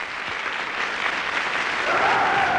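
Dense applause from a large audience at a public meeting, a continuous wash of clapping hands that swells slightly louder toward the end, with no voices.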